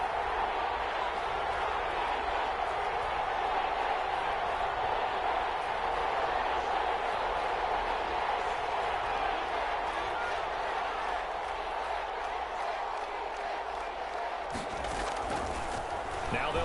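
A steady, dense roar from the stadium crowd in a PS4 American football video game holds without a break from start to finish, with a play-by-play voice faintly under it.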